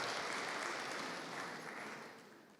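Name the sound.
applause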